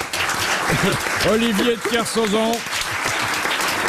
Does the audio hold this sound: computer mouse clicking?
no